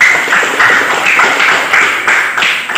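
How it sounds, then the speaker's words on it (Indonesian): A classroom audience claps together in a quick, loud, steady patter of hand claps. The clapping is close and fills the whole stretch, with no talking. "Silakan tepuk tangan dulu."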